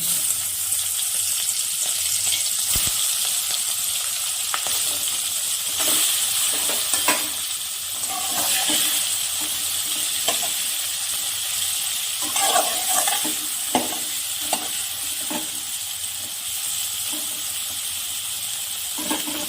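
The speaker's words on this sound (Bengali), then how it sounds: "চিংড়ি মাছগুলো একটু ভালো করে ভেজে নিব।" Prawns frying in hot mustard oil in a wok, a continuous close sizzle and hiss with occasional stirring scrapes and spatters throughout.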